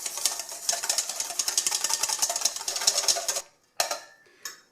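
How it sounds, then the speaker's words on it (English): A hand whisk beats oil into mayonnaise in a bowl with fast, steady, close clicking strokes that stop abruptly, followed by a couple of brief taps. "I just put a tiny trickle of the oil into the other ingredients, and then I'll whisk that in first"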